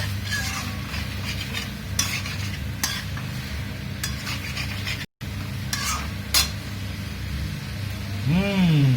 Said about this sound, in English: do not forget to keep on stirring